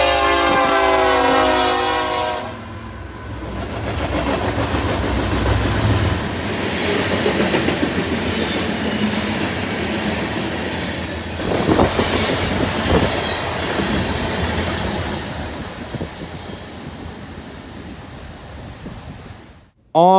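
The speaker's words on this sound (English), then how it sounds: "Ear-splitting horn salute in 3," A passing train sounds a loud, sustained horn salute up close at the start, then rumbles past with clattering wheels and rail noise that slowly fades, another brief horn blast cutting in at the very end.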